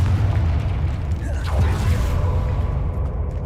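A Confringo spell blast in the Hogwarts Legacy video game lands as a deep rumbling boom with a sizzling burst, loud and sustained under a dense low roar.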